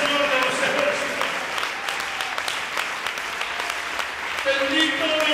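Church congregation clapping hands together in a steady rhythmic flurry, loud and close throughout, mixed with singing or voices.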